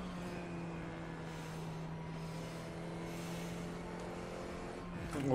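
A Formula iR-04 race car engine in iRacing, a steady humming drone at constant pitch held for several seconds, rising slightly louder at the very end, with no talk over it.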